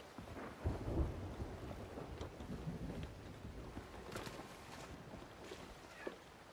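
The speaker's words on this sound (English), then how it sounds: "Oh, that's just thunder." Thunder rolls through a stormy sea in the pirate video game Sea of Thieves, a low, rumbling swell over steady rain and creaking, water-washed boat sounds, moderately loud and without any talk.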